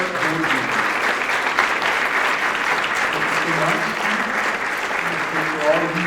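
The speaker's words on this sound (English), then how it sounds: "would you mind standing, please, so we can give you a round of applause?" Steady audience applause for standing board members at a community loan fund's anniversary event, a continuous bed of clapping with murmured voices underneath.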